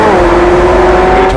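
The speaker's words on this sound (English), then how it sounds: "You can hear the induction, you can hear everything going on." McLaren Senna engine and induction roar in race mode, a loud, close, steady sustained drone heard from inside the car with no speech.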